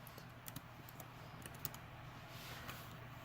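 A computer keyboard clicks in quick, irregular bursts of soft keystrokes, faint and alone against a quiet hiss, as a complaint is typed in.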